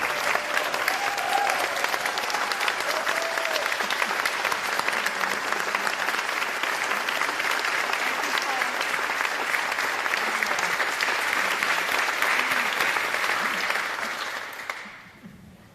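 A large audience claps steadily in welcome for House Speaker Nancy Pelosi at Harborview Medical Center, dense sustained applause that stays loud for the whole stretch before fading out at the end.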